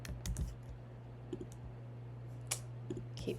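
Sharp mouse clicks, several scattered singly and in quick pairs, close by over a steady low electrical hum during a computer database search; no one speaks.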